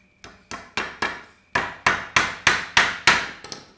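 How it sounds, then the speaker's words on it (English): Nails being hammered into wood while an engine hoist is built: about eleven sharp, evenly spaced strikes, the later blows louder and closer, with no talking. "Hammer that."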